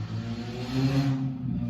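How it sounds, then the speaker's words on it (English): A loud, rough car engine rumbles and roars nearby with a coarse, throaty growl, as if the muffler were broken. "Somebody apparently needs a new muffler."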